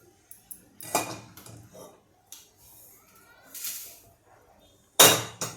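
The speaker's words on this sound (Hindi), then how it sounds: "तो अब हम इस पोहे को थाली में निकाल लेते हैं।" Roasted flattened rice (poha) is scraped from a hot pan onto a thali plate, with scattered clinks and metallic scrapes, quiet between them and ending in a sharp clatter.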